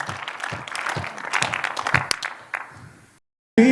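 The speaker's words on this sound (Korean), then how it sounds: "박수 쳐 주십시오" A church audience breaks into scattered, uneven clapping that builds briefly, then fades to silence before music or singing suddenly starts at the end.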